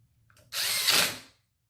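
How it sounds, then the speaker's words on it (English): A power tool drives an H13 bolt to secure a handle to a rod during assembly, heard as a single short, fairly close whirring burst of under a second that then stops, with no talk. "We'll be securing our handle using our H13 bolt."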